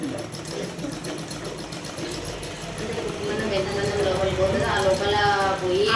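A sewing machine stitches fabric during a beginners' sewing class where shaped belts are being made. It runs in a steady mechanical whir that grows a bit louder partway through, with a voice talking over it.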